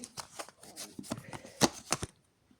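Cards slide and snap as one is pulled from a deck during a tarot-style reading, a series of quick crisp flicks and rustles up close, ending in quiet.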